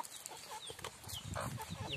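Chickens on a rural Philippine farm cluck and chatter in short, repeated calls, fairly close and moderate in level, with no talk over them.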